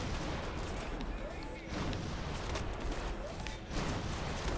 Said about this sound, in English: I'm assuming that's artillery firing and not giant robots coming to kill me.